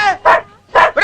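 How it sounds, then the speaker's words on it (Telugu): A dog barks loudly and close by, two or three sharp, forceful barks separated by short pauses. "ఏమిట్రా కుక్క?"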